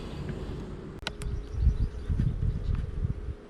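Honeybees buzz in a steady, close drone from an opened, smoked hive during a check of split colonies, with a brief knock and a few soft handling sounds.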